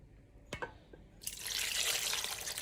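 Water pours steadily into a cooking pot holding soaked black beans and meats, starting with a few drips and knocks before a loud, continuous splashing stream takes over.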